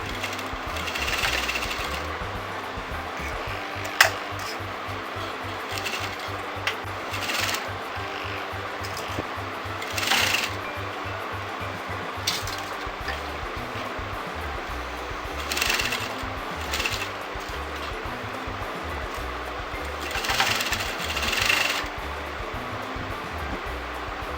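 A sewing machine stitches pin tucks into pinned fabric for a top, running in a fast, steady mechanical patter with brief pauses and small bursts between runs.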